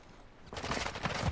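Gunfire in a Call of Duty match at an NACL Major pool play event bursts out suddenly as a dense, rapid fusillade, loud and sustained after a quieter opening.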